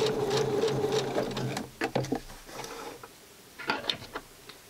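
Rapid mechanical whirring of a sewing machine stitching in short bursts, starting and stopping several times, close by.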